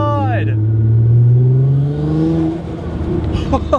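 Tuned Nissan R35 GTR engine on its first drive after a tune, revving hard from inside the car, a loud rising then falling drone that eases off before a few sharp pops at the end, with a voice briefly exclaiming.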